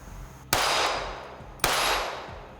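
Two loud gunshots fired at steel targets on a range, each a sharp crack followed by a ringing metallic decay, about a second apart and close by, no talk.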